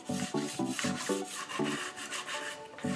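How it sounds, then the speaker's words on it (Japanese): Rhythmic rasping strokes of sandpaper smoothing the surface of a long bamboo flute, quick back-and-forth passes at close range, with no voices. "乾いたら今度は紙やすりで表面がツルツルになるように削る。"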